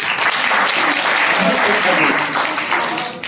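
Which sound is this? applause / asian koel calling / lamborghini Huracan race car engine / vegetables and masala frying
applause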